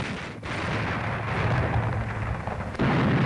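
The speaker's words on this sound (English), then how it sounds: "Montgomery's forces began a 5-hour bombardment of the Axis lines on the night of October 23" A heavy artillery bombardment rumbles with dense, continuous booming and blasts layered into a deep roar, loud and close, with a sudden surge near the end.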